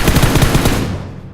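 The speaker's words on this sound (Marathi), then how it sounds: "गोळ्या चालल्या पण दिसत नाही मला" Automatic gunfire from a video game shooter match in a 2v3 mode, a loud close burst of rapid shots lasting about a second before trailing off.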